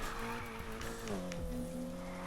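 A car in the racing game Need for Speed Heat drifts through a corner, its tires squealing and skidding over a steady engine drone that shifts pitch partway through, loud and continuous with no talk.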